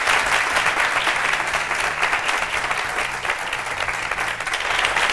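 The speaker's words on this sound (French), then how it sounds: "applaudissez-vous." Studio audience applauding on a French-language TV talk show: dense, steady clapping fills the whole stretch at an even level, with a faint murmur underneath and no talk over it.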